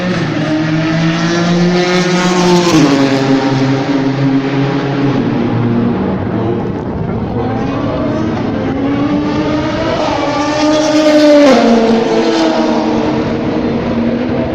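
Race cars lapping the circuit at the Le Mans 24 Hours test day, engines rising and falling in pitch as they pass, with a sustained loud roar and repeated upshifts across the whole stretch.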